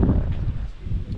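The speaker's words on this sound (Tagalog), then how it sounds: "Hangin na naman, nabuhay na naman ang hangin." Wind gusts buffet the microphone on a foggy view deck, a steady low rumbling roar with soft rustling that swells and dips throughout, close and fairly loud.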